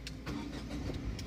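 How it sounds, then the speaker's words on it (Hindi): A 2022 Tata Nexon's engine starts and settles into a steady low idle, close and continuous with a faint rumble and no talking. "देखिए कार स्टार्ट हो गया है।"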